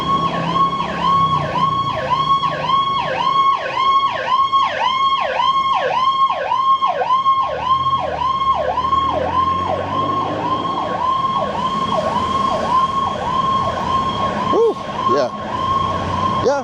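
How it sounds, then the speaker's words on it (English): An ambulance siren wails in steady, rapid cycles as it passes on a street. It stays loud and close throughout, then trails off at the end. "let's let that ambulance pass."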